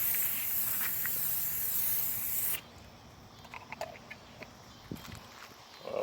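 Spray can laying a first coat of Plasti Dip onto a car grill outdoors in hot weather: a steady, close aerosol hiss that cuts off partway through, followed by faint handling rustles and small knocks.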